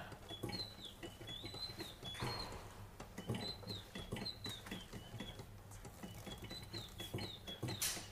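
A crank-driven mechanical bird whistle with bellows in a restoration workshop gives repeated short chirping, warbling whistles in bursts, over a soft rhythmic clatter of the turning crank mechanism.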